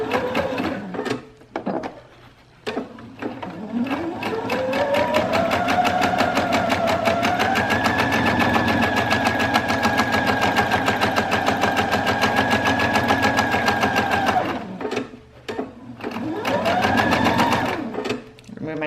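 A sewing machine stitches a fabric book cover: a loud, steady whirring run of rapid needle strokes that holds for several seconds and then stops, with shorter bursts of stitching before and after it.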